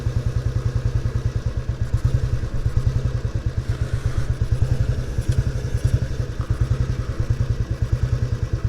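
A Royal Enfield Bullet 350 single-cylinder motorcycle being ridden, its loud, close, steady thumping exhaust beat pulsing rapidly and evenly throughout, with some rattling clatter over the top.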